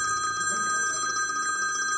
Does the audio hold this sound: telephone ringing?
yes